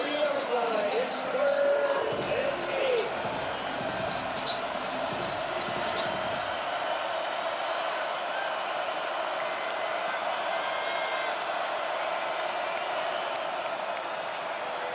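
Cincinnati football crowd at Nippert Stadium during a game against Iowa State, a broad roar of cheering from the stands that swells early and then settles into a steady din, with an announcer talking over it.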